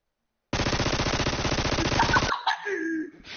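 In a video game, an SMG fires after a silent start, letting off a single rapid burst for almost two seconds. It is loud and close, and the burst stops abruptly into faint game sounds.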